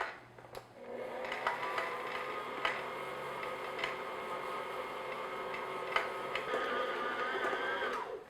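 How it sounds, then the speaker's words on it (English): A mixer runs steadily through oatmeal raisin cookie dough, a continuous whirring hum with faint periodic clicks, starting after a brief pause and stopping abruptly at the end, fairly quiet. "So now I'm going to slowly mix this together."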